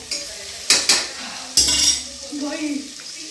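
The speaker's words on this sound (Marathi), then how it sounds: "आता बाकीच्या भाज्या टाकून दे हो" Chopped vegetables for pav bhaji tossed into a hot pan and stirred, with loud metallic scrapes and clanks over a steady sizzle of frying.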